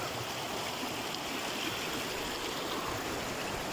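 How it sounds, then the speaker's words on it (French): River water flowing steadily, a soft continuous broadband rush close by with no speech and no distinct splashes. "c'est une rivière qui vaut vraiment le coup"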